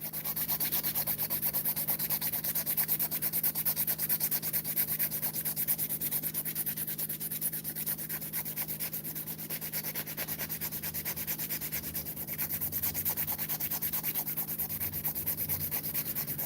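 A nail file rubs steadily across acrylic nails in fast, continuous strokes, close and even in loudness throughout, with no talking.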